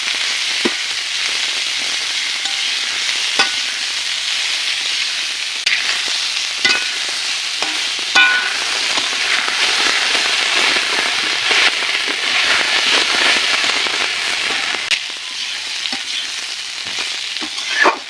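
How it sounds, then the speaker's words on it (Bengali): Puti fish and fresh vegetables with turmeric and salt frying in a pan, a steady loud sizzle with scattered crackles and pops and occasional scrapes of stirring, continuing without talk. "এভাবে কিছু সময় নেড়ে চেড়ে"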